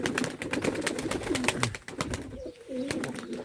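Platinum and white-tailed tumbler pigeons coo close by in soft, rolling bursts amid a busy flutter of clicks and scuffles from the flock.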